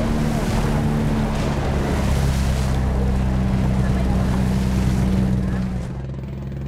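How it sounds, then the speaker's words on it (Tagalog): A boat engine drones steadily over rushing sea water and wind, a loud continuous rumble that eases slightly near the end. "Naglayag muli kami papunta sa ibang isla."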